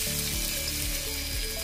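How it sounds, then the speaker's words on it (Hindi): Boiled potatoes dropped into leftover hot oil, frying with a steady loud sizzle that fills the clip, close up and continuous with no voice over it. "बचे हुए तेल में अब हम आलू को भी फ्राई करेंगे।"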